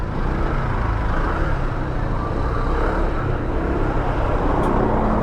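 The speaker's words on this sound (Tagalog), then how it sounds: "Ay matraffic din dito, di makalusot." Heavy road traffic on Tandansora Avenue, a loud, dense, continuous rumble of cars and engines close by, with no talk over it.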